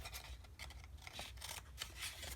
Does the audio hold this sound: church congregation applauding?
no